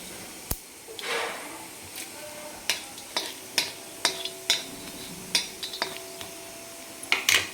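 Cinnamon and cardamom being sautéed in oil in a pan, with a soft background sizzle broken by a series of sharp metallic clicks and taps of a spoon stirring against the pan, close and irregular.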